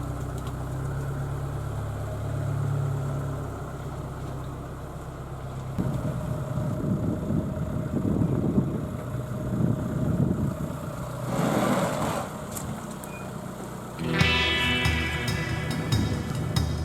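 1958 Standard Ensign car engine running, a low steady idle rumble that rises and shifts in tone midway, with brief clattering and rustling noises near the end.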